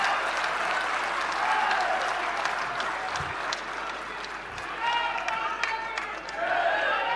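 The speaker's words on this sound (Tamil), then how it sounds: "அரங்கத்துல இருந்து விசில் சத்தமும் கைத்தட்டல்களும் குவியவே" Audience in a large parliamentary hall applauding, with dense sustained clapping and scattered whistles, briefly dipping mid-way before rising again, steady and fairly loud throughout.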